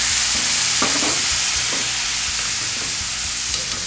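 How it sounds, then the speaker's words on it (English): Veal cutlets sizzle steadily in a pan as white wine is added to deglaze, a loud continuous frying hiss with a few scraping stirs and clinks, no talk. "we turn them, drain the excess oil, deglaze the pan with some white wine"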